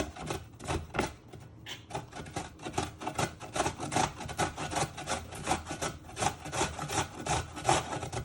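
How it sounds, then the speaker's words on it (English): Ginger for biscuits grated up and down on a hand grater, a close, steady series of rasping strokes in a regular rhythm for several seconds, with no talk. "So you just grate up and down"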